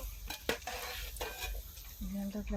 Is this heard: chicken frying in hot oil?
yes